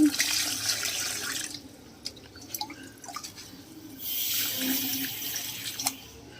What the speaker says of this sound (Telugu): మొక్కలకి కూడా నేను నీళ్ళు పోసేస్తున్నానండి